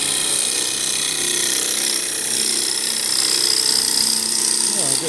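A gouge cuts a red cedar bowl spinning on a wood lathe, a loud, continuous grinding hiss with a fast mechanical chatter underneath that holds steady throughout.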